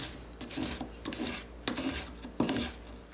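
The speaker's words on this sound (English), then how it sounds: "I have 600 grit sandpaper on a drum, and we're just going to go in a nice even motion along the inside and clean it up." A 600 grit sandpaper drum sands the inside of an opal ring during a jewelry resize, giving short raspy bursts of grinding in an uneven rhythm, fairly close and alone with no talk.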